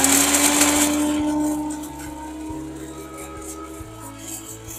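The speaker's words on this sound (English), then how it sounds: "This is my heavy duty blender that I really like" A heavy-duty blender grinding dried chillies into flakes whirs loudly at first, then settles into a lower grinding churn with rhythmic knocking as contents tumble, no talking.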